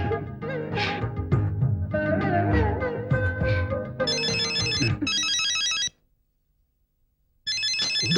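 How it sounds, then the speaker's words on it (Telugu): A telephone in a Telugu film scene rings with bright electronic tone bursts after a stretch of musical sound. The ring stops briefly, falls silent, then starts again, loud and close. "ఫోన్ వచ్చింది"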